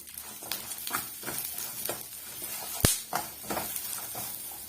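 Curry leaves sautéing in a pan for chutney, with tamarind added, giving a close, steady sizzle broken by repeated stirring scrapes and one sharp clink of a utensil, with no voices.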